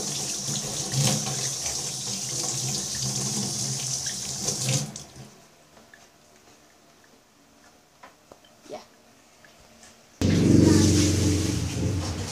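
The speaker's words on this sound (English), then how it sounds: "we're just gonna wash our hands for a minute" Water runs steadily from a tap into a sink during hand washing, a broadband rushing that stops midway, leaves a quiet gap with small handling clicks, then surges back on loudly near the end.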